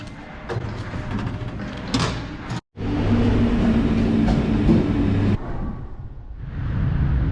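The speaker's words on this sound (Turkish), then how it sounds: "Şimdi bugün karşınızda gördüğünüz Tahran'ın metrosu burası." A Tehran metro subway train heard from inside, with a loud, steady rumble and rattle of the cars, a brief dropout, then a shift in tone as the train slows and doors work.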